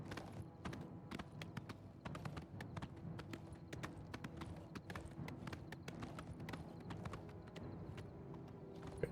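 Horse hooves clip-clopping at a steady trotting rhythm in the video game Oblivion, continuous and close for several seconds over a dense background bed, with no talking.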